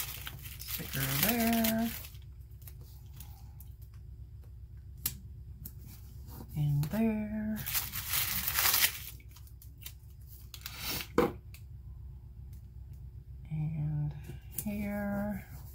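Soft crinkling and peeling of a workout sticker being placed on a planner page, a few brief papery bursts spread apart, with someone speaking between them.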